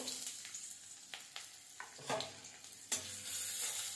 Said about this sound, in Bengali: কাঁচা গন্ধ চলে যাওয়া অবধি এটা ভাজবো আমি